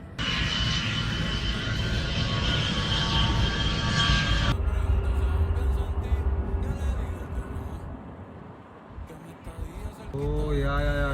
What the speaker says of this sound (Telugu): ఇప్పుడు ఒక ఫ్లైట్ వెళ్తుంది చూడండి మళ్ళా